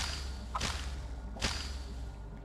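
A creature shooting out a web in the Nintendo Switch game Carrion, heard as two sharp whip-like swishes roughly a second apart over a steady, dark ambient hum.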